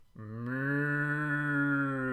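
A single long cattle moo, used as a sound effect in a studio music recording, swells in from near silence and holds steady and loud with a rich, buzzing harmonic tone for about two seconds.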